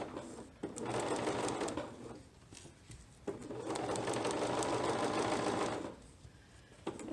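A sewing machine stitches a seam through four layers of lined embroidered net dress fabric, running in two long steady bursts with a short pause between them, close and fairly loud.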